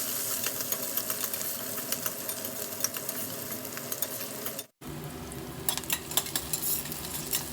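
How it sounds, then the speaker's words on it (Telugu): Onions and green chillies fry in hot oil for a gobi pulao, giving a steady close sizzle that cuts out briefly before resuming with louder crackling and spatter. "ఆయిల్ హీట్ అయిన తర్వాత ముందుగా ఆనియన్స్ అలాగే పచ్చిమిర్చి కూడా వేసేసి వేయించుకుందాము."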